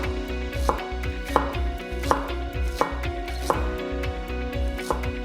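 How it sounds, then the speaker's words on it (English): A knife slices ginger thinly, striking a cutting board in a steady, even rhythm of close, crisp chops, roughly one cut every two-thirds of a second, with no voices. "So what I'm going to do for the ginger is I am going to slice it."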